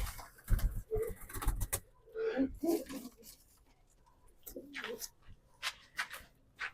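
Pigeons coo in a loft kept by a pigeon fancier, several low murmuring coos coming in short bursts amid clatter and fluttering, with people talking nearby.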